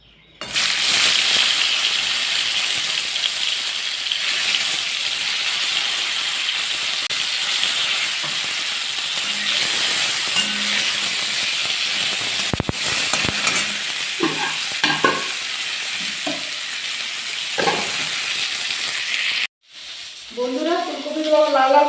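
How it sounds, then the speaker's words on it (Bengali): Cauliflower pieces fry with turmeric in oil in a hot wok, giving a loud, steady hiss and sizzle with occasional stirring scrapes, then a short cut and a brief voice at the end. "বন্ধুরা, আমি কড়াইয়ে তেল দিয়ে দিয়েছি আর একটু হলুদ দিয়ে দিলাম। এবার আমি ফুলকপিগুলো ভেজে নেব।"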